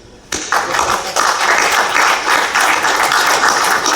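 A crowd at a Celebrity Cricket League event gives Yuvraj Singh a standing ovation, with many hands clapping in a loud, dense, sustained wave that starts suddenly and holds steady.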